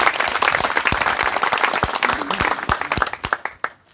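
A church congregation at a pastors' conference applauds, dense clapping with sharp individual claps, close and loud, tapering off into a few scattered claps at the end.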